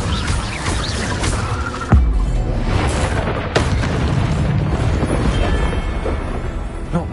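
Incendio fire spell from Hogwarts Legacy, a roaring, crackling blast of flame with a sharp burst near the start and another later, sustained and loud throughout.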